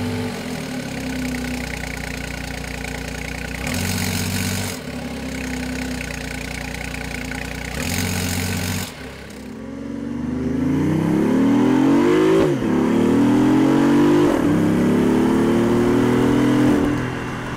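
BMW i8 Coupe engine heard close through a mounted mic, first a steady idle broken by two short revs, then driving off with the engine note climbing repeatedly through gear changes, loud and continuous.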